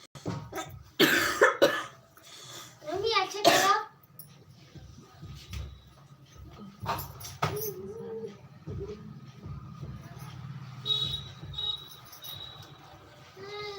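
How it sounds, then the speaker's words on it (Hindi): Several harsh coughs burst out close by in the first few seconds, followed by quieter shuffling room noise and faint background sounds. "आज बहुत खांसी आ रही बहन"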